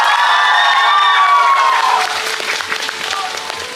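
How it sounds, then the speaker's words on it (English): Audience at an ethnic cultural show claps and cheers loudly and continuously, with whoops and shouts rising over dense applause that eases slightly toward the end. "Can we give all of them one last big round of applause?"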